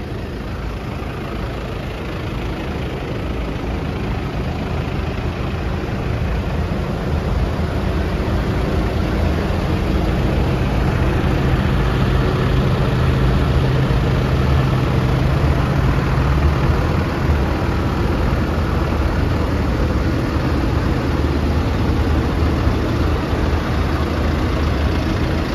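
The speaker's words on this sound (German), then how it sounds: "Also 220 Traktoren sollen es sein." Many farm tractors idling together at a vigil held by Swiss farmers in Eschenbach, producing a loud, steady, low diesel rumble that continues unbroken throughout, with no talking.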